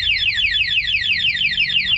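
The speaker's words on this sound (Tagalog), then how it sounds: "alarm lang siya." A loud electronic motorcycle alarm, a two-way alarm on a carbureted Suzuki Raider, sounds close by, repeating rapid warbling sweeps in a steady cycle with no talking.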